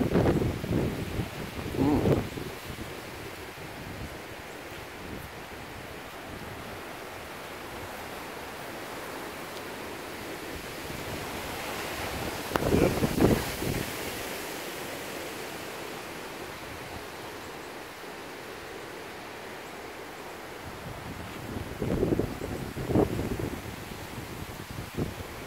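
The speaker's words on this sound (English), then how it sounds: "pretty windy today." Strong wind from Tropical Storm Nicole in Florida roars steadily as a dense, rushing noise, with a few heavier buffeting gusts rumbling louder at intervals.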